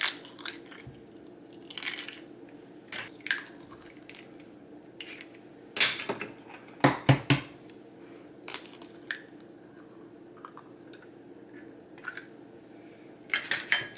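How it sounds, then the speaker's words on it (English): Eggs cracked one after another against a mixing bowl holding cake mix and pudding mix for a 7-Up bundt cake, giving sharp, close taps and shell crunches separated by quiet pauses. "now I'm going to go ahead and crack in my eggs"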